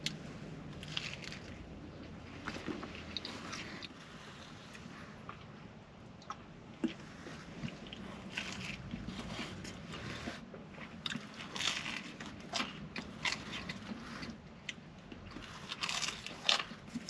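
Spicy perogy pizza is bitten and chewed up close, with soft repeated crunches and moist chewing sounds at a quiet, steady pace throughout, without talk.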